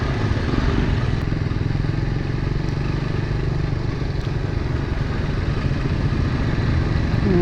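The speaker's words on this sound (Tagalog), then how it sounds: "Ang motor ko pala is Suzuki Raider 150 Fi." A Suzuki Raider 150 Fi motorcycle rides slowly at low RPM, its engine chugging with a rough, continuous pulsing drone close to the rider, steady and loud with no talk over it.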